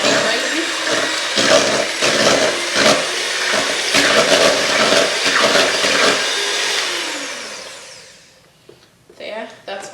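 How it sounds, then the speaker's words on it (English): An electric whisk mixes chocolate and butter for a Black Forest gateau, a loud close motor buzz with rhythmic pulsing that winds down and stops near the end. "And I'll whisk that together."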